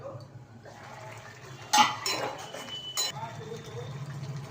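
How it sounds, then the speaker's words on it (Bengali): Boiled lentils tipped into a pot of potato curry for kochuri torkari: a short wet splash and slosh with a few metal clinks of a pot and spoon over a quiet background. "সেদ্ধ ডালটা দিয়ে দিলাম।"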